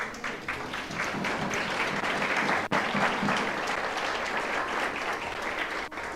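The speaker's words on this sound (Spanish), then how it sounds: "Y yo le daría un aplauso al Señor." A church congregation applauds in sustained, even clapping from many hands that fills the room for several seconds, with little speech over it.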